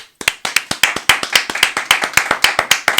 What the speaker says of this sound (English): And the studio audience keeps clapping.